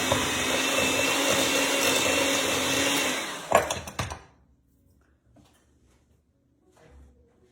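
An electric mixer creams spice cake batter in a bowl, a loud steady whir for about three seconds before it cuts off with a few clunks and knocks, then near silence.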